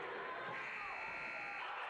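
End-of-period buzzer at a girls' high school basketball sectional game, a sustained loud electronic tone held for the whole moment over faint crowd noise.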